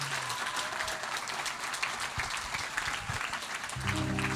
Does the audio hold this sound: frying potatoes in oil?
no